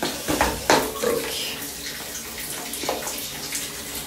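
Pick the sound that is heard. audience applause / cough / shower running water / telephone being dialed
shower running water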